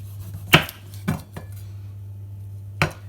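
A knife chops through the tough end of a garlic clove on a cutting board, three crisp close knocks in quick succession, then a fourth after a pause, with no talking.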